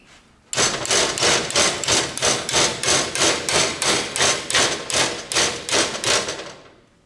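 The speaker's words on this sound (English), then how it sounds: "I'm just going to tap with my hammer." A hammer taps repeatedly on a metal lamp bracket on a bending jig, about fifteen even, ringing strikes in a steady rhythm, close and loud, with no talk.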